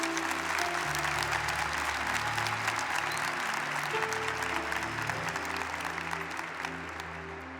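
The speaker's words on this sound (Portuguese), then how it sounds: "Se você crê nisso, aplauda Jesus com força." A church congregation breaks into loud, sustained applause, the dense clapping filling the room before slowly tapering off toward the end.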